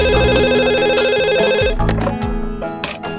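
A landline telephone rings with a steady electronic ringtone pattern for nearly two seconds, then stops; background music and clatter take over, in a Hindi television crime drama scene.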